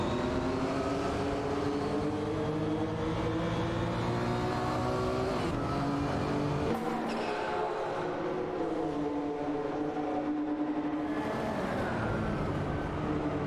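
Racing cars including a 1983 Honda City Turbo and a Subaru Impreza 22B STI roar through a video game race, engines droning loudly and continuously with rising and falling revs and pitch shifts as cars pass, no talking.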